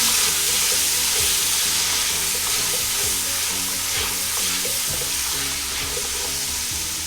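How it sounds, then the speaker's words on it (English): Fresh Surati papdi beans are stirred into a hot pan for undhiyu, with a steady loud sizzle of frying and repeated scraping, clattering strokes of the spoon running continuously throughout. "half a kg, which is 1 pound of Surati papadi I have taken. I'm just going to stir this in."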